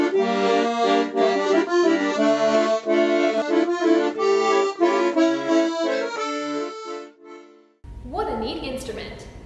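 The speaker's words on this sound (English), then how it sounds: "While you have to use the keys in order to play the accordion," Accordion playing a bright, reedy tune with steady rhythmic chords, close and clear, ending in a short gap before a different, louder passage of sound.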